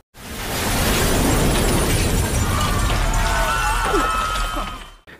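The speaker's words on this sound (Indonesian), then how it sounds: "Saat dikiranya sudah tepat, bom pun siap diledakkan." A bomb goes off inside a cafe in a film scene, a sustained loud roaring blast with shattering debris and crackling that fills about five seconds before cutting off.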